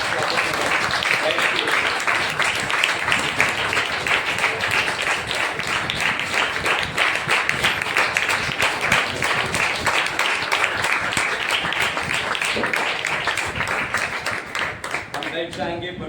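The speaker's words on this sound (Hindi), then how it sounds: "आइए जोरदार तालियों के द्वारा अपोस्तल धीरज श्रेयोशी का स्वागत करें। जोरदार तालियां।" An indoor church congregation keeps up vigorous, continuous clapping for a long stretch, with crisp individual claps standing out and voices mixed in beneath the applause.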